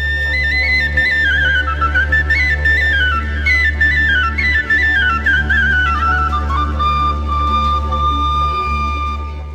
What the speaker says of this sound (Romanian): un glas duios de fluier se auzea în depărtări